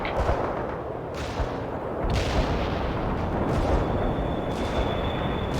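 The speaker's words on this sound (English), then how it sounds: "Mortars will fire at the provided order." Mortar artillery fire in World in Conflict, a few heavy booming blasts spaced about a second apart over a rumbling battlefield bed, moderately distant, with no talk.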